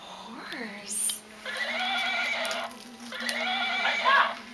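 A mechanical toy horse whinnies in two long electronic bursts, close and steady, with a faint hum underneath.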